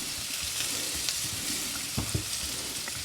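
Shrimp and vegetables pan-seared with adobo seasoning sizzle steadily in a frying pan, a constant close hiss with a few sharper pops and crackles, no voices.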